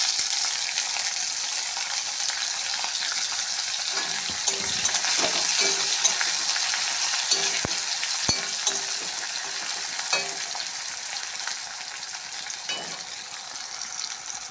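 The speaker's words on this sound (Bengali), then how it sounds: "পেঁয়াজ ভাজা হয়ে গেছে" Steady sizzling of onions frying in a pan, a broad crackling hiss throughout with a few soft scrapes and clicks of stirring.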